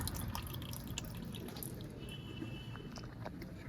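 Water pouring and dripping onto a Samsung EcoBubble 8 kg washing machine, a constant close splashing wash of water with scattered drips and no talk.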